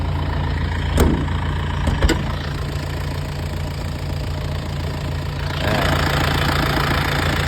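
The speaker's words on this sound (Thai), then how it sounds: "ครื่องยนต์เดินนิ่งๆนะครับ" A truck engine idles with a steady low rumble and faint knocking, a couple of brief clicks early on, growing slightly louder near the end.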